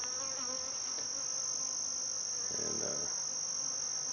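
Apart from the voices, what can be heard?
honey bees buzzing around a hive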